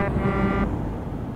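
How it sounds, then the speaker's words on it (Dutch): A truck horn sounds close and loud in one sustained, steady blast of a little over half a second, sounded at a passing Scania on the road, with engine rumble continuing underneath after it stops. "Je hebt weer naar een Scania getoeterd"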